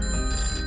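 A telephone rings with a steady electronic tone for a farmers' call-in show, loud and continuous through the short moment with no voices.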